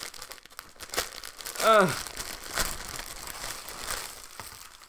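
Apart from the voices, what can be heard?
unwrapping a t-shirt from plastic packaging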